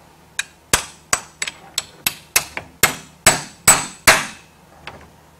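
A hammer strikes a RIDGID 766 cutter on a workbench, about a dozen sharp metallic blows at an uneven, quickening pace, close and loud with ringing decays.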